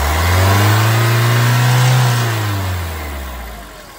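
A Ford EcoSport Titanium Plus engine revs up loudly and holds high before winding back down toward idle, close by.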